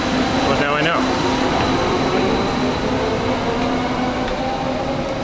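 Subway train in Puerto Rico, a loud steady rumble and hiss of the moving rail car with a sustained hum, muffled voices underneath.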